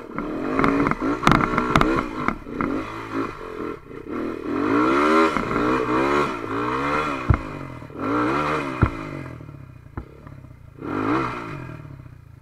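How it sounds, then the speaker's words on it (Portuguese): A mini motorbike engine revs up and down in repeated rising and falling sweeps, loud and close, with clattering knocks during a ride toward a canyon. "Mini moto."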